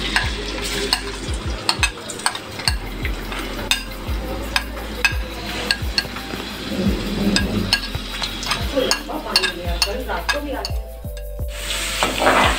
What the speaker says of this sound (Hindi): लहसुन और ज़ीरे को साथ साथ फ्राई करेंगे